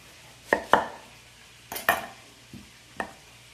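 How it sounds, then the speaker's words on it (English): A knife chops through an onion on a cutting board in a home kitchen, giving several sharp, close, separate thuds spaced irregularly, with no talking. "What I do is just chop my onion in half."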